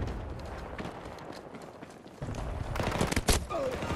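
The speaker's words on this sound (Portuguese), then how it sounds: "A torreta tá matando alguém." Turret gunfire in Battlefield 2042, a rapid burst of shots that swells in the latter half over a rumbling battlefield background, fairly distant and moderately loud.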